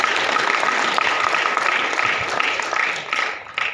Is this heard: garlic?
no